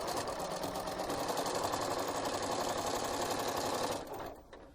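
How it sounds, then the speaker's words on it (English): A sewing machine runs a continuous, close stitching burst as elastic is sewn onto a fabric face mask, then slows and stops toward the end. "now I'm going to sew these on"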